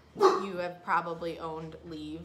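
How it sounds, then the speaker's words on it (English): A dog barks twice, close and loud, then whimpers and yips indoors while someone talks over it. "That is my dog"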